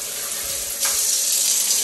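Bathroom tap running in a steady, continuous stream that swells slightly louder partway through, close and alone with no talking.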